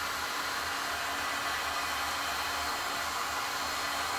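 Heat gun blowing hot air across a fresh resin pour: a constant, close, loud rushing whoosh with an electric motor whine and no breaks.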